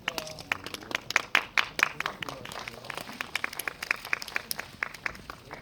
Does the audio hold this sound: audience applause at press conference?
yes